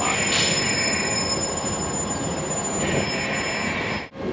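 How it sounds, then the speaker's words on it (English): Train passing through a Japanese railway station track, a loud, sustained rumble with a continuous high squeal of wheels on rail, steady throughout before cutting off abruptly near the end. "A train will soon be passing through track 3."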